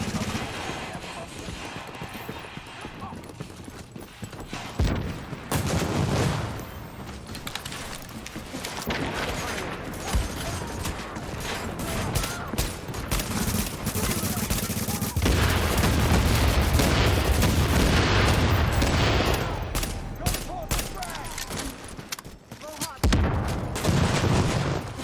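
Gunfire in The Division video game, a dense fusillade of shots and booms running nearly the whole way, loud and continuous with heavier bursts in the second half; a voice talks briefly over it.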